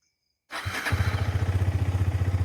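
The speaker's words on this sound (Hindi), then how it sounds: "तो ये बाइक अपनी स्टार्ट हो गई।" A Husqvarna Svartpilen motorcycle engine cranks and catches after a silent half second, then settles into a steady, close, pulsing idle with no voices.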